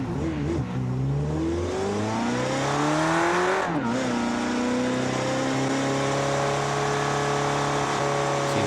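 A car in BeamNG revving hard with its tires spinning on sand, the engine note rising and falling in sweeping pitch changes over a gritty roar, loud and close throughout.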